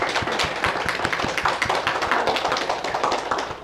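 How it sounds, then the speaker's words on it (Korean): A church congregation at a Sunday morning service claps together in a dense, steady burst of applause that holds for several seconds without voices. "우리 박수 한번 하겠습니다"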